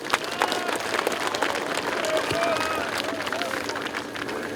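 Applause at a statue unveiling ceremony in Daegu–Gyeongbuk, a steady crowd clapping with some murmuring voices, moderately loud and continuous for a few seconds.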